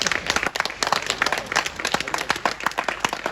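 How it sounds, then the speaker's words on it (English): Audience applause for a guest speaker at an IIT ISM Dhanbad campus session, dense continuous clapping from many hands, steady and fairly loud throughout. "Can we have a huge round of applause?"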